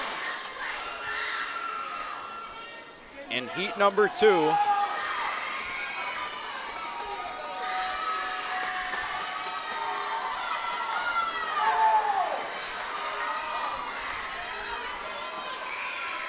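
Crowd noise at a girls' high school swim meet between Moorhead and Detroit Lakes/Fargo Shanley, a steady indoor roar of spectators cheering with a louder burst of shouting midway, mixed under an announcer talking.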